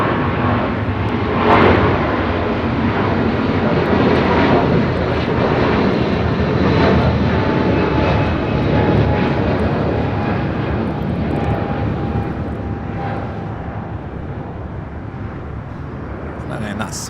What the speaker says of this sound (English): United Airlines Flight 1635 heading to Dulles in the 777-200, taking off there on 25